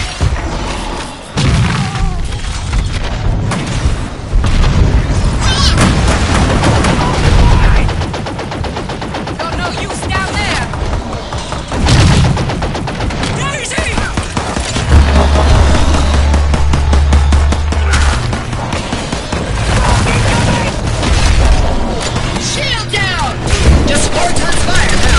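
Orbital strike explosions and sustained gunfire in a Halo-style Spartan shooter video game, with loud continuous booms and rapid firing throughout, dense and relentless.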